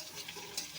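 Taro and potato sizzle and fry in a pan, giving a steady, soft crackle with one brief stir or scrape, faint and close, with no voices.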